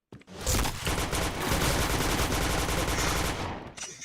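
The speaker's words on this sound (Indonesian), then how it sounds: "Nggak kena aku nembak pakai SC ini." Rapid automatic gunfire from an SC rifle in a shooter video game rattles loud and close in one long continuous burst, trailing off near the end.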